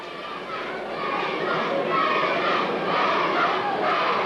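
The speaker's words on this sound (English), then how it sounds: "A lot of the crowd coming in now for the senior game between Bantry and Duhallow" A large crowd murmurs and shouts at Páirc Uí Chaoimh stadium before a senior Gaelic football county match between Bantry and Duhallow. The roar is steady and dense and grows slightly louder.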